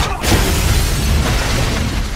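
An office building blown up with gas cans and plastic explosive in an action movie: a loud, sustained broadband blast rumble with debris noise, alone and filling the whole short moment.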